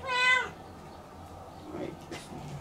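One clear, high meow from a tied-up, hungry kitten sounds at the start, followed by softer, fainter mews in the quiet that follows.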